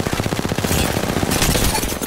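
Rapid automatic gunfire in a shooter video game, a dense, loud stream of quick shots rattling continuously without pause.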